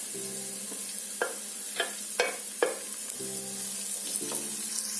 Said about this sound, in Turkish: Az kavrulan kapya biberlerimin içerisine yeşil köy biberlerimi de attım.